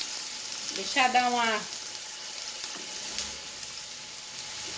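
Onion cooking gently in a pan in a Brazilian home kitchen while meatballs in sauce are made, a soft steady sizzle running the whole time beneath a brief spoken phrase near the start.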